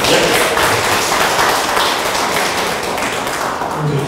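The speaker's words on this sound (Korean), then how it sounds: "준비할 동안에 박수 한번 해주시기 바랍니다" Audience clapping fills a press meeting hall at a Busan party gathering, a dense, steady patter of many hands lasting throughout with faint murmuring underneath.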